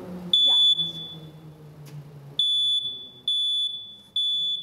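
A smoke detector alarm sounds in loud, piercing electronic beeps, one long tone then three shorter bursts with brief gaps, over faint background voices.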